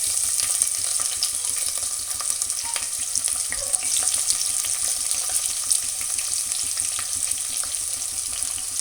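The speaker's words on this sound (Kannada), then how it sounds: "3 ರಿಂದ 4 ಸ್ಪೂನ್ ಎಣ್ಣೆ ಹಾಕಿ ಅರ್ಧ ಕಪ್ಪು ಶೇಂಗಾನ ಹಾಕಿ ಫ್ರೈ ಮಾಡ್ಕೋಬೇಕು" Peanuts fry in a few spoonfuls of hot oil, a dense continuous crackling sizzle that holds steady and close throughout, with no voices.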